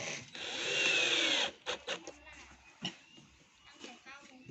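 Small screws driven with a power drill to fix wheels onto the back of a drawer during cabinet assembly: a sustained whirring burst up close, then short knocks and clicks while someone talks.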